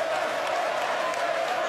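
Crowd noise at a live wrestling event: a dense, steady roar of cheering and shouting from a large audience that holds at an even level throughout.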